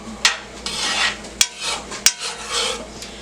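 Garlic and onion cooking in a pan and being stirred, a utensil scraping and rasping across the pan bottom with three sharp metallic clacks and a steady sizzle between strokes, close and clear with no talking.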